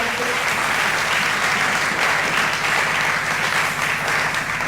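A church congregation claps loudly and steadily throughout, a dense, even wash of applause from a large crowd with no breaks.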